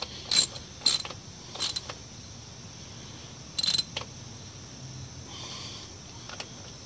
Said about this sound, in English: now I'm just snugging down the 2 bolts